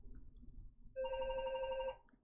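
A house phone rings once, a single electronic tone lasting about a second, clear but moderate against a quiet room, with nothing else happening around it.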